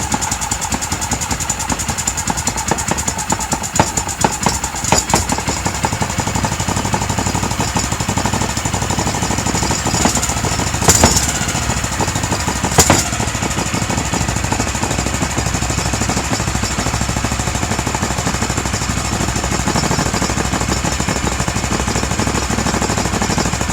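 A Yerf Dog go-kart's 212cc engine runs steadily and loudly for the whole stretch, a rough, even idle with a couple of brief louder bursts partway through and no talking over it.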